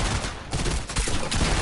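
A harpoon gun fires in a video game, a loud, close burst with a sharp report and a second hit shortly after, with no talk over it.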